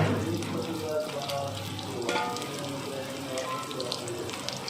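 Chopped onion and green chilli tipped into hot oil for a banana-flower filling, a continuous dense crackling sizzle close up, steady throughout with no clear words.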